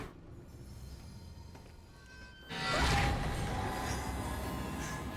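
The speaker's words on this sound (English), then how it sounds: "Fucking train jump scares" A train in the Alien: Isolation video game rushes in suddenly after a quiet stretch, a loud broadband roar and rumble that swells at once and holds steady, with a brief whoosh at its arrival.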